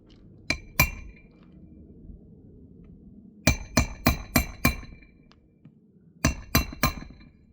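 A hammer drives a roofing nail into a shingle in sharp metallic strikes: two blows, a pause, a run of five quick hits, then three more, close and loud over a low background rumble.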